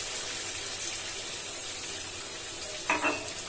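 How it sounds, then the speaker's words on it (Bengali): Water poured into a papaya chicken curry hitting the hot pan, giving a brief splashing gush near the end over a steady loud sizzle of frying; close, no talking. "আমি পরিমাণ মতো জল দিয়ে দেব।"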